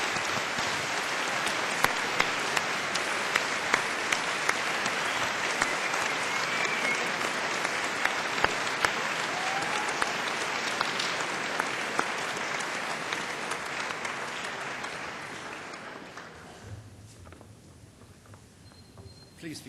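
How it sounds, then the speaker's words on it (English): A graduation audience at Cardiff University applauds in a large hall, with dense, sustained clapping for about fifteen seconds that then fades out to near silence. "just give them a big round of applause"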